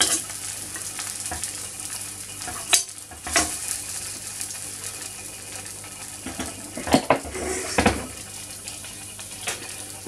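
Beef sizzling in a hot frying pan on a hob as a utensil scrapes and pushes the meat aside, with several sharp metallic clinks over a constant frying hiss.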